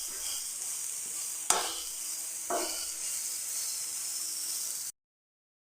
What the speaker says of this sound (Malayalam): ഇനി എല്ലാം ഒന്ന് ജസ്റ്റ് ഒന്ന് മിക്സ് ചെയ്തെടുക്കാം.